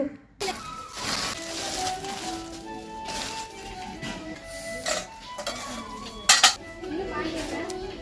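A heavy copper-bottom stainless steel kadai being handled, with metallic clanks and scrapes of cookware against other pots and pans, plus a sharp clatter near the end, all fairly close and continuous.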